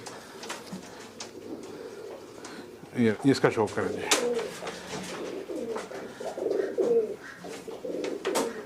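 Pigeons coo softly in a loft of prized fancy flying pigeons, their low throaty calls running under someone talking throughout.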